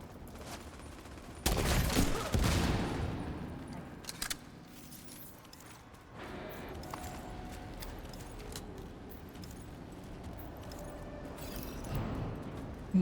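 Video game gunfire against a boss, a dense burst of shots early on followed by scattered sporadic shots and clicks through the rest, mixed with a player's talking.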